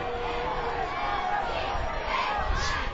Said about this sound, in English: you can hear the crowd booing